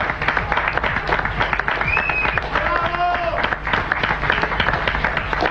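A crowd claps in a dense, continuous ripple of applause, loud and steady throughout, with a few voices and faint shouts mixed underneath.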